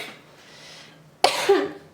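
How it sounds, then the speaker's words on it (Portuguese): A person with an allergic cough, two weeks running, gives a sudden near cough burst followed by a second harsher hack, after a soft breathy lead-in. "eu tô com essa tosse alérgica, já vai fazer 2 semanas"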